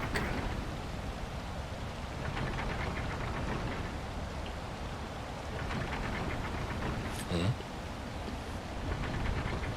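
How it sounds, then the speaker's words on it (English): Steady, dense rain from the Wild Hearts video game world, a constant hiss of drops on surfaces with a single brief louder rumble partway through, no speech. "Another victim of this endless rain."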